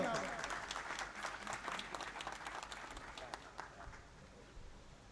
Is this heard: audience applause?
yes